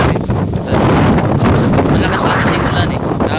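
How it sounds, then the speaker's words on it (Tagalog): Strong gusting wind at the edge of a lake during rain, roaring loudly against the microphone in continuous buffeting bursts, with people talking under it. "Mahangin."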